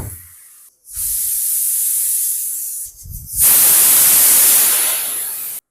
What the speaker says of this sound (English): So you can see the steam being released.